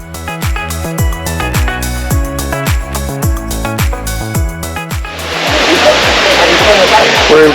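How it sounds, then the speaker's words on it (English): Veliki Slap, the tallest waterfall in Plitvice Lakes National Park and in Croatia at 78 meters, roars loud and steady over the last couple of seconds after a stretch of rhythmic, beat-driven music. "another waterfall called Veliki Slap, or simply the Great Waterfall"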